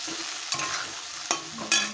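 Fried potatoes with ginger, green chilli and turmeric are stirred in a pan, a soft sizzle under three distinct scraping strokes of the spatula, close by and without speech.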